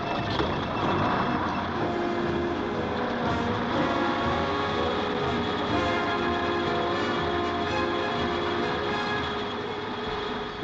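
A freight train of 30 cement-laden bulk wagons, around 800 tons, rumbles past in a steady loud roll, with continuous rail noise and tonal squeals held over the whole stretch.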